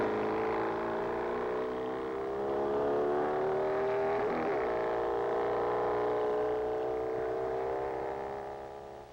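A 40 cubic inch Triumph-engined hot rod making a 1951 speed run at Bonneville, its engine a loud sustained drone that rises in pitch as the car accelerates, then fades slightly at the end.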